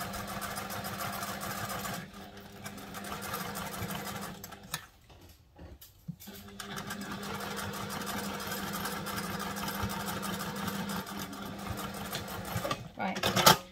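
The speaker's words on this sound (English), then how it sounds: "Sounds like my bobbin may be running out." A sewing machine stitches stretch fabric in a continuous whirring hum, bobbin running low, pausing briefly midway before resuming, close and steady with faint talk underneath.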